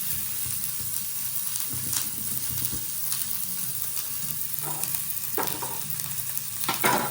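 Cumin seeds frying in oil in a pan, a continuous close sizzle with occasional spoon stirring scrapes and small pops.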